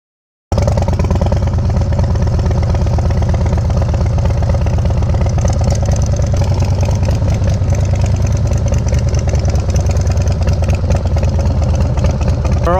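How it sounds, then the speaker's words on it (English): A Harley-Davidson Softail Low Rider fitted with a Stage 4 Screaming Eagle kit idles close by, a loud, steady, lumpy V-twin throb that runs unbroken after a brief silent start, with slight rev swells. "This is the new softail lowrider, and this is not a standard bike."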